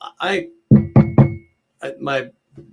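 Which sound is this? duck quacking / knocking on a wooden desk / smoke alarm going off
knocking on a wooden desk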